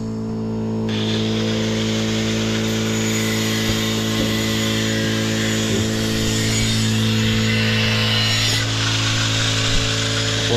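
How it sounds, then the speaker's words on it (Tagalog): A power drill bores a screw hole in bamboo during work on a hut, giving a continuous loud mechanical whine and hum that holds steady for about ten seconds. "Tapos bubutasan ko na para may screw natin."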